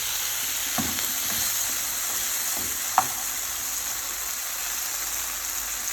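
Food sautés in a pan with a steady, even sizzle that holds the whole time, broken by a couple of soft utensil clinks and one sharp tap near the middle, close and without voices.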